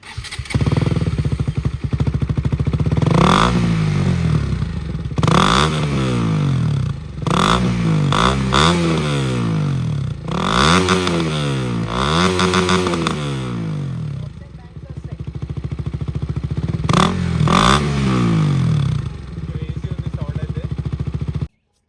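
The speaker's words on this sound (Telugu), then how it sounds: "ఇంకా లేట్ చేయకుండా ఎగ్జాస్ట్ నోట్ అయితే ఇందాం" A KTM motorcycle engine idles with a throaty rumble, then revs repeatedly in sharp bursts, each rising and falling, loud and close with a rattly exhaust note.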